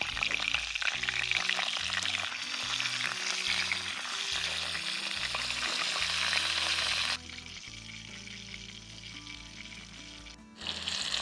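Flour-dredged fish fillets sizzle steadily in a hot pan over a forest survival cooking setup, a loud continuous frying hiss that drops briefly and then surges again near the end.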